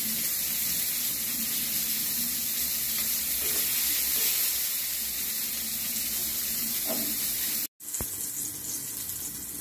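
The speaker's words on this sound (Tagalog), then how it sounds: "ipa-fried rin po natin ang patatas at ang carrots" Potatoes and carrots sizzle in hot oil, a steady close crackling hiss that holds evenly, with a brief dropout near the end before the frying resumes.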